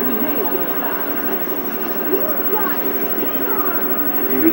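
In the Sonic Adventure DX game, a rocket-boosted airplane flies with a constant droning engine roar, fairly loud and steady throughout, while people talk over it.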